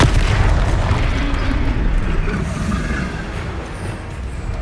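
A Confringo blasting spell goes off in Hogwarts Legacy, a deep rumbling explosion and boom that fills the whole stretch and slowly fades, with no speech over it.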